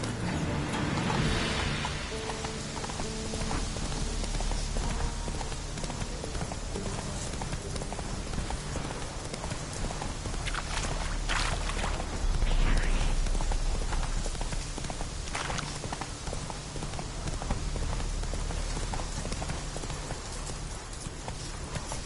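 A horse gallops in The Witcher 3 video game, giving a steady, busy clip-clop of hooves over a constant background rumble, moderately loud and continuous with no talk.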